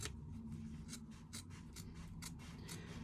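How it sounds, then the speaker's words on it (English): Scissors trimming backing fabric and fusible fleece, giving a series of soft, crisp snips at a regular pace, close and faint. "I'm just going to use my scissors, and be careful you don't cut into the overlay"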